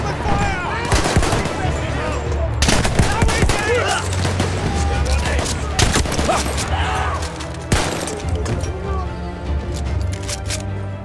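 Gunfire in the World War I shooter Battlefield 1, with dense bursts of rifle and machine-gun shots, some loud and close, in a chaotic battle soundscape with shouting voices in the mix.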